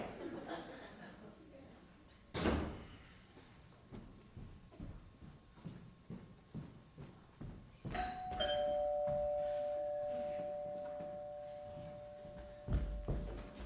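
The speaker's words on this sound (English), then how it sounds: "That's the doorbell, dear, not the telephone." A two-tone doorbell chime rings out on a stage during a school play, over scattered thumps and muffled voices, followed by a lingering tone.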